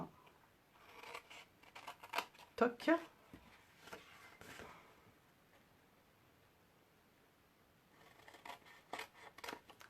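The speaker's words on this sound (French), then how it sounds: "Je prends mes ciseaux. Donc, en fait, voilà, je coupe là." Scissors snipping through material while making a small gift box for nail polish or lipstick, a few close, crisp cuts in a cluster, with someone talking softly around them.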